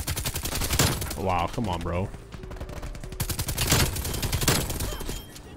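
Rapid RPD light machine gun bursts from Call of Duty: Cold War, dense and loud throughout, with brief gaps between strings of shots and a player's voice exclaiming over the firing.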